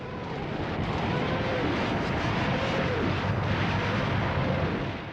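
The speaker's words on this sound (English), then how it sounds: "Zhukov let rip his long-prepared preemptive artillery barrage" A dense, continuous roar from a WWII artillery barrage sound effect, loud and rumbling with overlapping distant booms blending into one sustained wall of noise.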